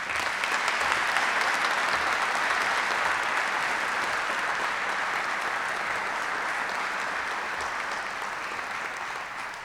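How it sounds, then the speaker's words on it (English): A crowd at a US Air Force flying training squadron change of command ceremony applauds steadily for nearly ten seconds, the clapping dense and sustained before it tapers slightly. "please join me in a round of applause"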